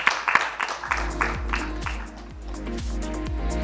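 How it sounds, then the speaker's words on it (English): Audience applause at a women's awards conclave, loud clapping at first that is soon overtaken by thumping music with a steady low beat, the clapping fading beneath it. "Please give ma'am a big round of applause as well for coming up on stage"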